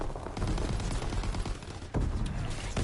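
Gunfire from the Call of Duty WWII Shipment map, a dense fusillade of rapid rifle and machine-gun bursts around a command post, loud and continuous, with a heavy burst near the end.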